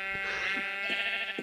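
A Minecraft sheep bleats loudly and close by in one sustained, quavering cry, with a few faint taps mixed in underneath.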